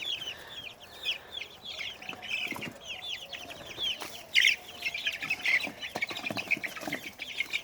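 Baby chickens, including Naked Neck Turkens, keep up a busy chorus of high, overlapping peeps and chirps close by, with a few louder calls and brief rustles.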